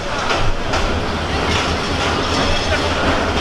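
The Tista Express passenger train rolls along with a loud, close clickety-clack of wheels and rumbling carriages, recorded from near the front beside the locomotive.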